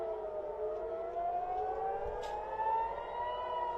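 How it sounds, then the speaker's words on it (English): Air raid sirens wail over Tel Aviv during an Iranian missile attack, a steady distant civil defense tone with slowly rising, layered pitch sustained throughout, with no talking. "We have air raid sirens over Tel Aviv now."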